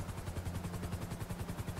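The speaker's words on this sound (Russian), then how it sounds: "А, во, вижу оранжевенький вертолет прямо." An orange helicopter flying in GTA V Online, its rotor producing a steady rhythmic thumping chop with a low engine drone, constant and moderately faint.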